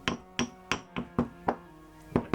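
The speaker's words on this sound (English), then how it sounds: "basically you're just going to crush that" Chalk pastel is ground into fine weathering powder with about nine evenly spaced hard taps or strikes, each a short knock with a brief resonant ring, close and alone without talk.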